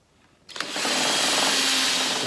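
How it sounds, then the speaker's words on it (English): A power drill starts abruptly and bores steadily into mixed wood, a spline-filled hole in a demilune table, producing a loud continuous whine close by, with no talking. "And we'll drill here."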